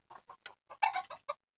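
Chickens cluck in a short burst of rapid, close calls, several separate clucks in quick succession with one louder cluster in the middle.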